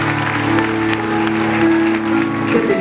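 A church congregation at a Sunday service claps loudly and steadily, acclaiming the Holy Spirit, with sustained keyboard music and some voices mixed into the applause.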